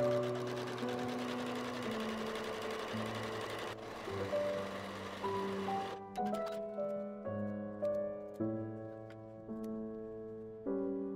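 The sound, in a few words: sewing machine zigzag-stitching the edge of linen fabric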